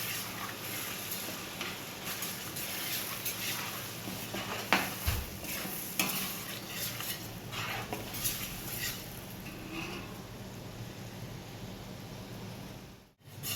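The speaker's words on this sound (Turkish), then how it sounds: "soğanlarımızı 15 dakika kavurduk biberimizi ilave ediyoruz" Onions with green, village and kapya peppers fry in a pan as a steady soft sizzle, broken by a few utensil knocks and stirring scrapes, then briefly cut off near the end.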